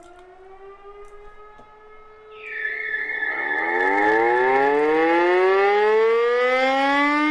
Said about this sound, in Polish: bez kitu to syreny są, bo nawet słychać